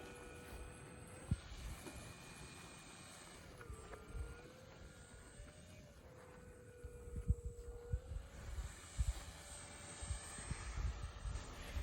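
A Blackhorse PC-9 RC airplane flies during its maiden flight, its engine a steady distant drone with a tone that rises and falls as it passes, with wind buffeting throughout and no talk.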